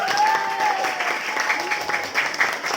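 Children clapping their hands together at a school hygiene session, a dense, steady patter of many hands close by, with voices and chatter mixed in.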